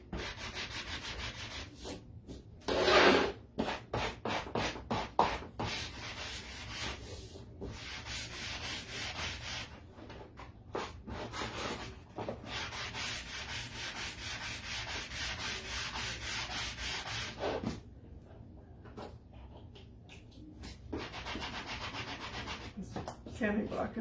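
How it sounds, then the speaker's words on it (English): Sanding block rubbing across a painted metal cookie sheet, a long run of steady scraping strokes in quick rhythmic bursts, close and fairly loud, with brief pauses between passes and no talking. "Sanding block is not working very good."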